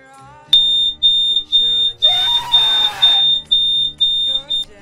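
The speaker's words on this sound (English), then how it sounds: "I'm sorry for send off the fire alarm with my fog machine in the middle of the night" A smoke alarm set off by a fog machine beeps in a loud, sharp, evenly spaced series of about eight pulses, with a brief burst of noisy sound partway through.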